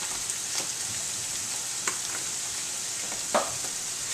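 Seasoned food cooks in a pan with pepper and salt added. A steady hiss of frying runs throughout, with a few soft scrapes and taps as it is stirred. No one speaks.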